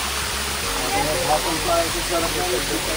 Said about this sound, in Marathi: हा मध्ये एक वॉटरफॉल लागतो